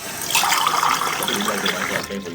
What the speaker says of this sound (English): I pour myself a glass of water from the kitchen, and then another.